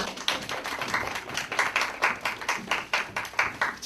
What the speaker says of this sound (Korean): 오늘 말씀을 전하신 박준희 전사님을 박수로 환영해드리겠습니다